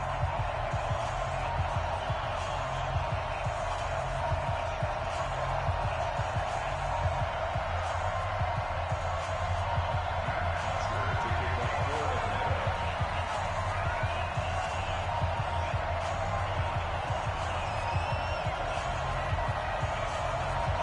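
In an American football video game, the Falcons face the Saints before a sellout stadium crowd that roars steadily throughout. A commentator talks over the dense noise.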